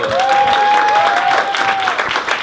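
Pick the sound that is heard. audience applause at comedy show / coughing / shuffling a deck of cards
audience applause at comedy show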